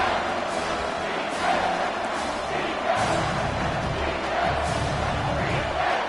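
Stadium crowd roaring in the College Football 25 video game during an overtime moment, a broad sustained swell of noise rising in surges, with broadcast commentary over it.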